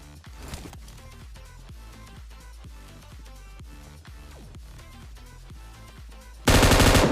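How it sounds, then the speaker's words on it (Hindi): Gunfire in the PUBG Mobile video game: a long run of rapid, evenly spaced automatic shots at moderate level, ending in a sudden loud burst of noise. "वहाँ पे मतलब और भी फायरिंग चल रही थी"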